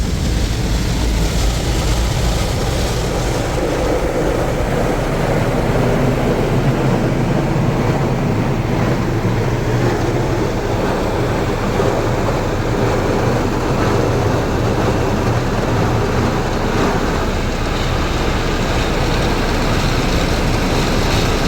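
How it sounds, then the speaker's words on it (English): An automated car wash runs loudly around a Mazda Bongo with a sunroof, a continuous broadband roar of spraying water and machinery that stays dense and steady throughout, with no talk. "we're going through a cheeky automated car wash, and it's getting really loud"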